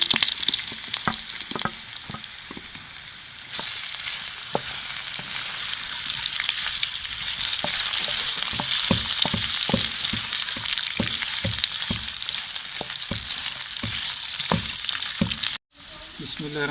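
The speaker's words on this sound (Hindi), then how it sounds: "अभी मज़ीद इसको ब्राउन करेंगे और चमचा जो है साथ साथ हल्का हल्का चलाते रहेंगे।" Moringa roots fry in ghee with a dense, steady sizzle, while a spoon stirs the pan, adding frequent sharp clicks and scrapes close by.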